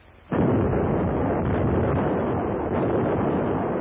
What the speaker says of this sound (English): long-range guns hurled ton after ton of high explosives into the heart of the city